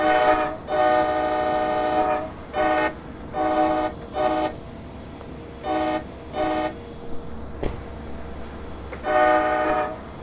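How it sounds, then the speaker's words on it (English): A diesel locomotive horn in Train Simulator Classic on the North Jersey Shore and Morristown lines sounds in a series of short, tapped blasts, loud and close over a steady engine rumble, with one longer blast near the end. "But if you try to just tap the horn, there's no ending loop, like at all."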